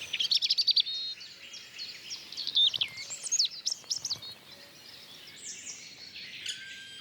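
Young black woodpeckers calling: bursts of high, sharp chirping calls in quick repeated runs, loudest early on, then thinner overlapping calls fading toward the end, fairly near against a quiet background.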